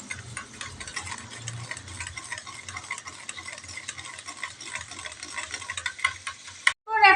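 Powdered milk being stirred into a potol curry mixture in a pan, with a steady run of quick scraping and clinking spoon strokes, close and moderately quiet, ending in a brief louder clatter.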